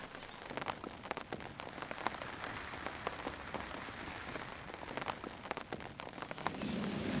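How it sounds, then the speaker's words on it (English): Heavy rain hammers down steadily on a surface outdoors during a fishing trip, a dense, continuous wash of drops with scattered louder splats throughout, close and unbroken, with no voices. "the rain is absolutely hammering down"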